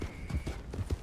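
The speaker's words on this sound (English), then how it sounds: "Let's get on the horse" Horse hooves clip-clop at a steady trot in the Red Dead Redemption 2 video game, a regular series of soft, close thuds over a low background hum.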